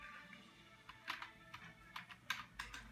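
Computer keyboard typing, a short run of light, irregular key taps, close and fairly quiet over a low background hum.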